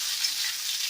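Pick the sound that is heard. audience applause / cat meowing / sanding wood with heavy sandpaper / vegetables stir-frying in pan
vegetables stir-frying in pan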